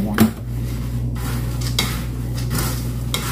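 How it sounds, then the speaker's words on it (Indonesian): Scraping and stirring as peanuts are dry-fried in a pan without oil, with intermittent rattles and clinks, a low hum underneath, close and moderately loud. "kalau menggoreng kacang tanpa minyak itu akan menghemat biaya"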